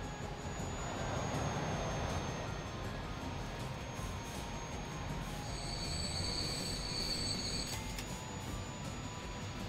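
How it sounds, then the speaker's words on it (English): A train running in the Transport Fever video game: a continuous rolling rumble of rail wheels throughout, with high, steady wheel squeals rising midway and cutting off sharply. "You're waiting for this train to go."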